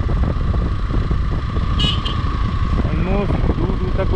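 Hero Xpulse 200 motorcycle cruising in fourth gear at about 38 km/h on a mountain road at dusk, a steady engine drone with wind rush, and someone talking over it throughout.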